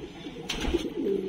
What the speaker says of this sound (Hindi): ये पंखे कबूतर है